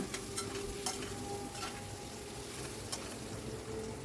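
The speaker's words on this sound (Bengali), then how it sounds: "আলুগুলোকে একটু ফ্রাই করে নেবো" Thinly sliced potatoes frying in a pan, a faint steady sizzle with a few light stirring clicks and spatula taps scattered through, no one speaking.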